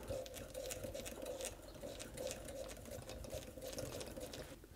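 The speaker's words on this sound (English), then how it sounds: "definitely wins the prize for the quietest sewing machine ever" A small Singer Model 20 toy sewing machine runs during test sewing, a quiet, rapid, steady mechanical patter recorded close up with no talking.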